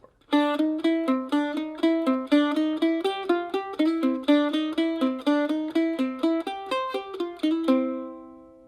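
A mandolin plays the A part of a fiddle tune, a steady run of bright picked notes in even rhythm, close and clear, ending on a ringing held note with no talking.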